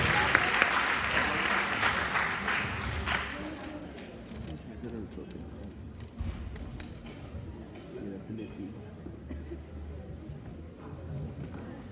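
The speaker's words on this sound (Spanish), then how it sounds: "Vamos a pedir un fuerte aplauso a la doctora Magali." An audience at a gynecology lecture claps for a visiting doctor, a brisk burst of applause for about three seconds that fades out, followed by quieter room noise and murmuring voices.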